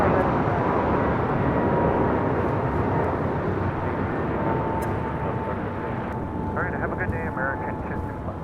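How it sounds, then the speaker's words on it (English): An American Airlines A321neo jet roars steadily as it takes off at LAX, a broad continuous engine rumble heard from a distance, while people talk over it. "This is American Airlines 265 taking off to Lihue on an A321neo"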